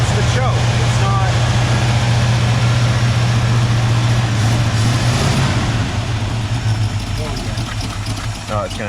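A 1978 Ford Bronco V8 with its choke unhooked idles fast and loud close by, a steady continuous rumble with a slight sag near the end.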